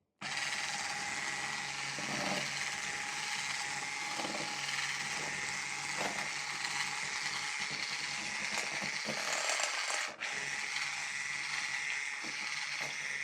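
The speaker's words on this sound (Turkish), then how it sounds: "Bunu güzel iyice köpük köpük olana kadar çekeceğiz." Instant granulated coffee is whipped until foamy for tiramisu balls, probably with an electric mixer, giving a steady, faint mechanical whir that continues without a break, with a few soft knocks against the bowl.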